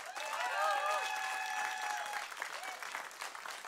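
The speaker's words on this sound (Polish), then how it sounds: "Wielkie brawa." Applause fills a live concert at a radio concert studio, a loud, steady wash of clapping from the crowd, with a few whoops or whistled cheers rising over it early on.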